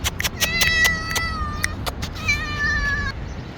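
A cat meows repeatedly while being fed outdoors, two loud drawn-out meows close by over steady background noise and a few sharp taps.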